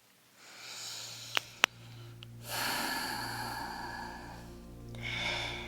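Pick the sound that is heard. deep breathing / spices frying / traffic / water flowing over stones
deep breathing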